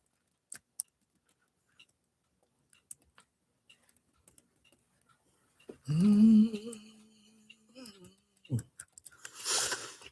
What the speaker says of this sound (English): Give me a second, I'm typing.